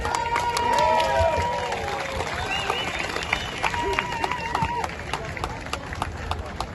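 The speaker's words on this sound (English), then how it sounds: "you all deserve a round of applause for that" A rally crowd at the World Freedom Rally gives a round of applause, a dense clapping wash mixed with cheers and scattered voices, strongest at first and gradually thinning out.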